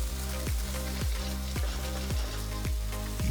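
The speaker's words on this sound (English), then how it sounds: "add 1 chopped tomato and fry this until the tomato is nice and soft" Chopped tomato frying in a pan for a Goan dry prawn chilli fry, with a steady close sizzle broken by regular stirring scrapes about every half second.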